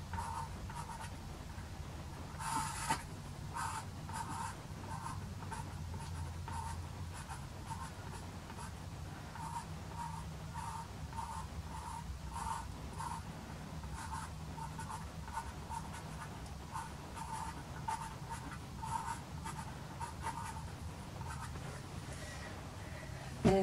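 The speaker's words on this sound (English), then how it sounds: "the pastel pencil works well on the over that paper as well" A pastel pencil scratches across paper in a run of short rhythmic strokes, close and quiet, carrying on steadily with a brief louder scrape near the start.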